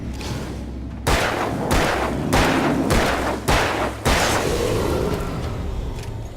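Five loud, sharp gunshots from a handgun in the video game Alan Wake, fired at irregular intervals over a low droning ambient background, each with a booming tail and no talking.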